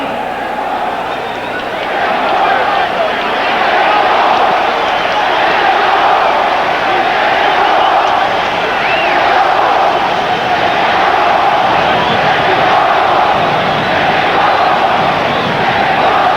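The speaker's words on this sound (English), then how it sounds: "This near-capacity crowd chanting Mexico, Mexico as we begin the fight" A near-capacity boxing arena crowd roars and chants continuously at the start of a WBC super lightweight title fight, loud, dense and sustained, with the chanting swelling and ebbing in a steady rhythm.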